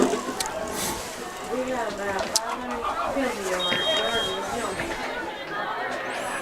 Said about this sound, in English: That's a loud backup alarm then.